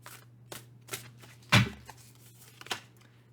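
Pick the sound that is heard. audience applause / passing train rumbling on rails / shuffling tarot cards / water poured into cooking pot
shuffling tarot cards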